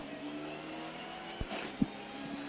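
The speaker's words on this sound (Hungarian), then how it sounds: "Megyünk fölfelé, gyorsan, nagy gázzal megyünk" A rally car accelerates hard uphill, its engine a steady, droning roar heard from inside the car at moderate level, with a couple of brief thumps from the road.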